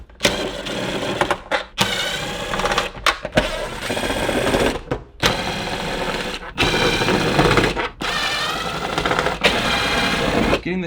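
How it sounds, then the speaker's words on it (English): A power driver fitted with a Torx T25 bit spins out air box bolts on a Ferrari 458, a series of close, buzzing whirring bursts separated by short pauses. "we're just gonna use a Torx T25 bit and pull off the air box bolts"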